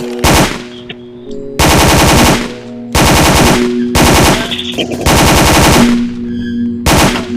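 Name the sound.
gunfire in the Roblox video game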